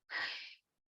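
A single sneeze bursts out close and loud in the middle of a live talk session, sharp and breathy, lasting about half a second before silence returns.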